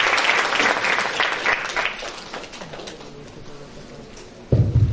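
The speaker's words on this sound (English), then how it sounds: "A big round of applause for Rashmi." An audience applauds after a teaching talk in a conference hall, steady clapping that thins and fades over several seconds before a brief low thump near the end.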